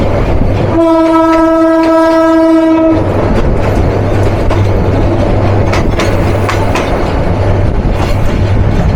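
The Tista Express pulls out of Kaurai station in Bangladesh, its engine recently troubled: a loud sustained horn blast for about two seconds over heavy rumbling wheels and rail clatter that continue steadily throughout.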